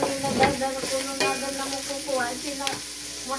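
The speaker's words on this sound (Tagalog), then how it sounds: "haluin natin mga kasuke" Macaroni sopas being stirred in a cooking pan, a steady close scraping and soft sizzle with periodic sharper strokes of the spoon.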